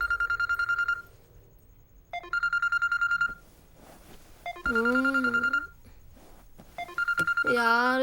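A telephone rings late at night in a Hindi-dubbed movie scene, sounding in repeated electronic bursts of steady tones separated by short gaps, while a voice speaks in between the rings.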